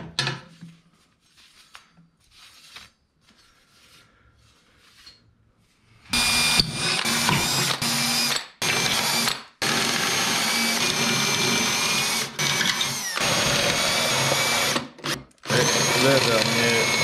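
A power drill cleans out holes on a Polaris RMK SKS snowmobile, whirring loudly in long close bursts broken by short pauses after a quiet start where someone speaks.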